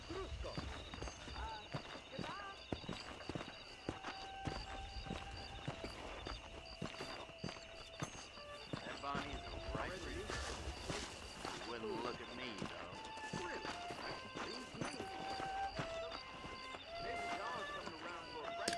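Horse hooves in Red Dead Redemption, a soft clip-clop of a horse moving at a walking pace, faint and irregular beneath game music, ambient noise and a person talking.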